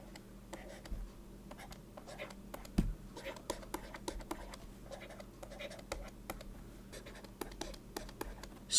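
A pen sketches a right triangle on paper, making close, quiet scratchy strokes in short irregular bursts, with soft whispered speech running under the scratching.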